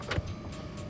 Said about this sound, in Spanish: regresó a su auto y se alejó